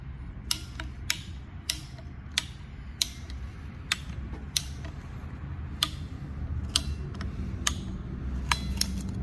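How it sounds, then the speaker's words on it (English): A conduit cutter ratchets through rubber hoses in a garage during an engine-swap build, giving a steady series of sharp clicks about every half second over a low background hum. "I think this tool's for like cutting conduit or something, but I had it lying around, and cutting these hoses really suck."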